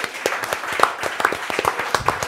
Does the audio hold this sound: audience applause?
yes